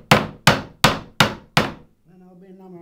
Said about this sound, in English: That's pretty good though, getting those frets in.